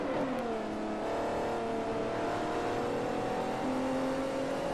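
A racing car in Forza 4 roars under sustained acceleration, the engine note climbing and shifting pitch as it revs hard through the gears, loud and continuous throughout.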